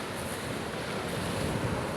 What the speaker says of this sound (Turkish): Dalgalar çok yüksek.